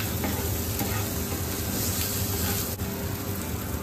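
Fried potatoes stirred in a frying pan with leaves: a loud, constant sizzle fills the clip, with faint scraping stirs and one brief sharp knock.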